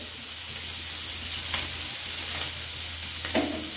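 Chicken pieces frying in a spice masala paste for a junglee chicken curry, a steady close sizzle throughout with a few brief stirring scrapes, no voices.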